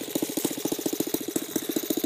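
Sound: Saito FG14-B single cylinder gas engine running

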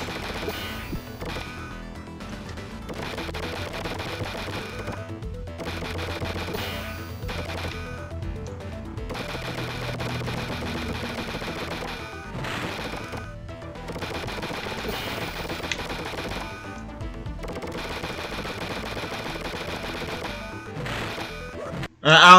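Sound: anvils being shot in the Earthworm Jim Genesis video game

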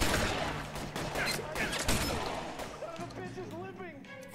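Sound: gunfire from a shotgun in the video game LA Noire

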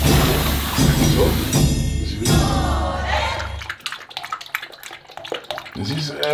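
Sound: bathtub water, getting into the bath

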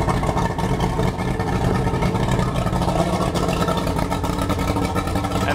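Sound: outboard boat engine idling

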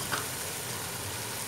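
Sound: stir-frying carrots and onions for beef chowmein

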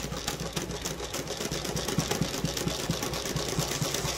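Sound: Cornely L chainstitch sewing machine sewing furry yarn

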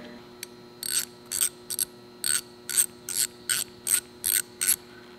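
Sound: driving set screws into pit bike handguard mounting brackets

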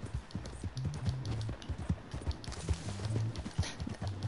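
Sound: horse hooves in video game Red Dead Redemption 2

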